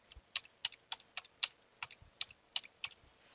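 Soft, quick keystrokes on a computer keyboard, a dozen or so light clicks in an uneven typing rhythm, close and quiet with no voices.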